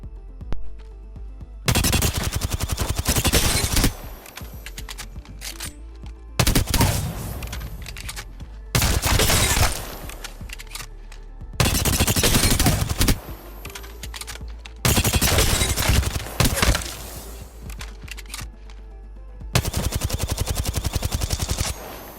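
Bursts of automatic weapon fire in the Apex Legends firing range, several seconds each, separated by short pauses. The shots are loud and close, with faint keyboard clicks underneath.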